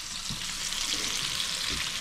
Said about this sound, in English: We're gonna let them fry probably minute and a half, flip them over, fry them another minute and a half